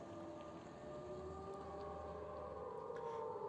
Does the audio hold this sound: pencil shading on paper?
no